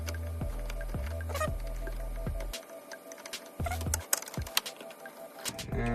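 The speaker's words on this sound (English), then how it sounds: "let's go ahead and take off the screws. You're gonna see 3 Phillip heads on the front." Small ticking clicks and light scraping as three Phillips-head screws are backed out of the front of a power supply in a Boot Hardware chassis, close up over a steady low electrical hum, with no talking.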